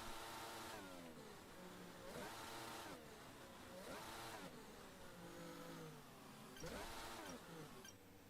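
F1 racing cars in the F1 22 video game, overtaking on a practice lap: high, buzzing engine whines rising and falling repeatedly in pitch as cars accelerate and shift, loud and continuous throughout.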